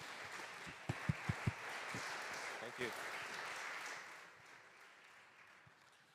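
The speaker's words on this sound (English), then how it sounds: "A big applause for the panelists," Audience applauding panelists at a forum on disability inclusion through para sport, steady moderate clapping with a few louder close claps early, fading near the end, while someone briefly speaks.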